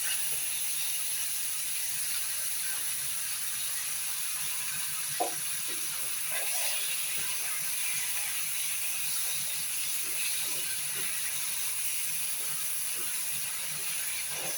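Prawns and fish frying in hot oil, a steady, bright sizzling hiss throughout with occasional soft pops and light taps, close and continuous with no talk.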